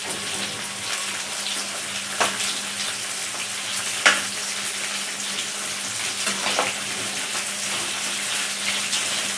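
Capsicum being lightly tossed and stir-fried for chilli chicken, a steady close sizzle with a few sharp scrapes of the spatula against the pan, no voices.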